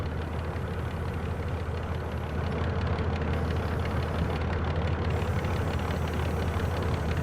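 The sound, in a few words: diesel locomotive engine idling, video game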